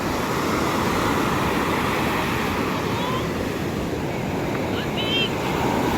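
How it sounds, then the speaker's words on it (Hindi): Ocean waves wash continuously onto Juhu beach in Mumbai with a roaring surf and wind rumble, loud and close throughout. "समंदर की आवाज़ सुनो।"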